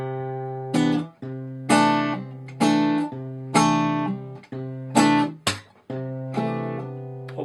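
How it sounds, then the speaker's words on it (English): A guitar plays a phrase from a song, live version, with a hammer-on: a sequence of ringing, sustained chords and notes struck one after another, each fading before the next, loud and close with no talking. "I'll try to over-exaggerate that a bit. It's just that hammer-on,"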